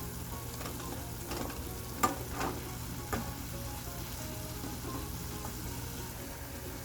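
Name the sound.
stirring chili powder and spices in a frying pan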